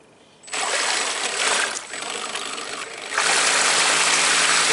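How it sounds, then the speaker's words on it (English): Electric pumps on a V-hull river boat push water overboard, making a loud steady gushing rush that starts suddenly, dips briefly midway, then swells even stronger, heard close without talk. "Yeah, they're both pumping out water."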